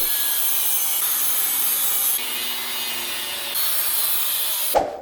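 A hand saw cuts through metal on a Locost 7 kit car frame with steady back-and-forth rasping strokes, heard up close and alone, ending with a brief clunk.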